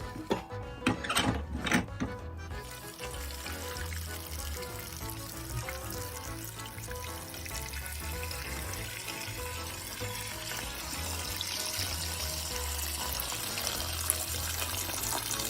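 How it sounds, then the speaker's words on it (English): Water runs and pours steadily for a long stretch into a container holding harvested sweetcorn, a continuous splashy rush after a few brief knocks at the start. "so I'll put some water"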